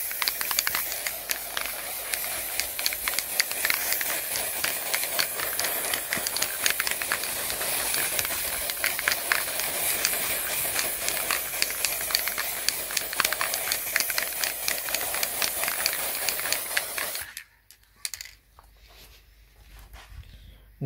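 An aerosol can of adhesion primer sprays a steady, loud hiss onto a hard fishing lure being refurbished, holding for about seventeen seconds before cutting off abruptly, followed by a couple of faint handling noises.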